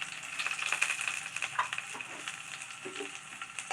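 Garlic and a cut dried red chilli sauté in a pan for ladies finger egg rice, a close, steady frying crackle with occasional stirring scrapes and no speech.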